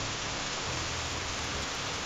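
Steady rain pouring down over a small garden plot behind a house in the Bicol province countryside, an even, continuous hiss of drops with no break, moderately loud and alone without voices.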